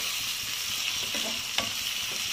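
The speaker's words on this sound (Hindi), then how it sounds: "अब इसमें मैं टमाटर ऐड करूंगी। टमाटर को मैंने रफ चॉप किया है।" Chopped onions sizzling in a pan as roughly chopped tomatoes go in, a soft steady fry with a few stirring scrapes and a small clink, close and quiet.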